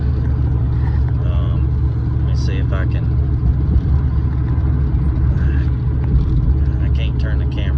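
Steady engine rumble from an OBS pickup truck while driving, heard from inside the cab with a low continuous drone, while someone talks over it.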